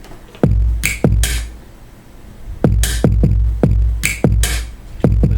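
A drum pattern programmed on Maschine 1.8 software loops a snap, a strike and a deep kick in a steady groove, with punchy low thumps and crisp upper hits, playing alone without talk.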